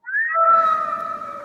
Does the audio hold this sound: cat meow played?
yes